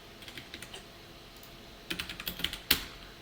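Typing on a computer keyboard while writing HTML code: quiet, close key clicks in short irregular bursts, a quicker run of taps near the end and one sharper key strike.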